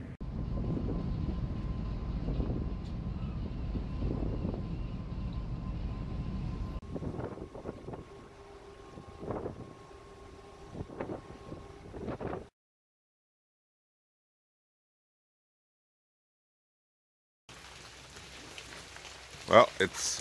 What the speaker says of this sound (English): it's super, super rainy today